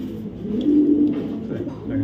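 Racer pigeons of a foreign bloodline, kept as club birds, coo in a low, continuous murmur while a voice talks over them nearby.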